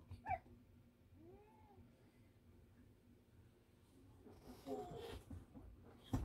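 A cat meows a few times, with a curving high cry early and a louder cluster of meows near the end, over quiet outdoor background noise.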